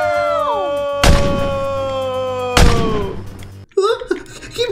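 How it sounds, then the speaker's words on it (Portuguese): Two loud, booming gunshots in the Roblox game Brookhaven, heard over a sustained melodic game tone, followed by a brief excited voice. "Foi tiro."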